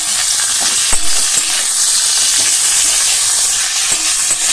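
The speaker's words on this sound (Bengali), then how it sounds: "তো চলো এখন এটা ভালো করে ভাজা করে নিই।" Chopped onion, tomato and green chili fry in a pan with a constant loud sizzle, punctuated by sharp metallic clinks of a spoon stirring against the pan.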